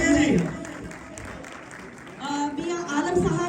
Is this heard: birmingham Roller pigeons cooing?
no